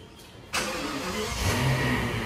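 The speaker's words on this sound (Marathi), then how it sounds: "अरे बघा आता गाडी चालू करते" A Rolls-Royce car engine starts with a sudden burst about half a second in, then settles into a steady, full, close idle hum with a slight rise in revs and no talking.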